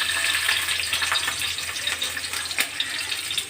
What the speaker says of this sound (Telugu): సో ఫస్ట్ ఎర్రగడ్డలు వేసుకుందాము.